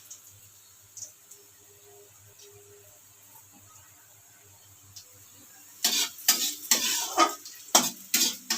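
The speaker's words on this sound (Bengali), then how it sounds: "পেঁয়াজ দেখো লাল লাল করে ভাজা হয়ে গেছে" Onions fry in a pan, quiet at first with a faint sizzle and a few light taps, then a burst of loud scraping stirs and crackling in the last few seconds.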